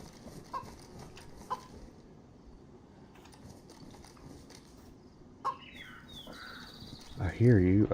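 A chicken in the video game DayZ gives a few sharp clucks and squawks, with a louder burst of clucking at the end, under a player's voice and faint background noise.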